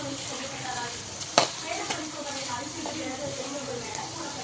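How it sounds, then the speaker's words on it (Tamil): Onions sauté in a pan and are stirred as they fry. A steady hiss carries a few sharp spoon clacks against the metal, while a voice talks over the cooking. "இப்போ வெங்காயமும் சேர்த்து நல்லா வதக்கிக்கலாம்"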